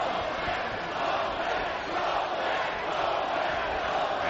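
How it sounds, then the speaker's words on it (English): A boxing arena crowd chants for Poland, a dense, roaring wash of many voices sustained at a steady level, distant and blended with no single voice standing out. "And the crowd chanting Poland."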